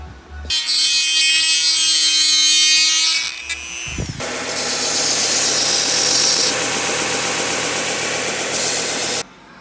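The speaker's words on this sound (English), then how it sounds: "Gonna do some teeth work with my Dremel." A Dremel rotary tool trims carbon fairing parts for a Ducati 1299 Panigale, a loud high-pitched whine that runs for a few seconds, stops, then resumes as a harsher grinding buzz until an abrupt cutoff.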